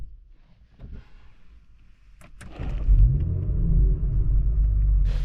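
A 2023 Audi RS4 Competition's 2.9-litre twin-turbo V6, 450 hp, starts up and settles into a deep, loud idle rumble, close by, with a brief rev at ignition and no talking.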